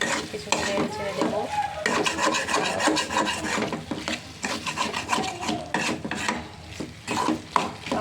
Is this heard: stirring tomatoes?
yes